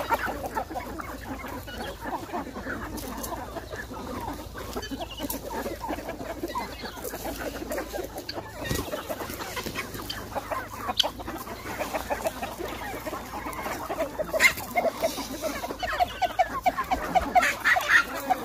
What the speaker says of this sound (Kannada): ಪ್ಯೂರ್ ಒರಿಜಿನಲ್ ನಾಟಿ ಕೋಳಿ